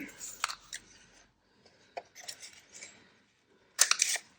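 Scissors snip a small divot into a paper pocket of a no-sew mini journal, several short crisp cuts separated by pauses, close and fairly quiet.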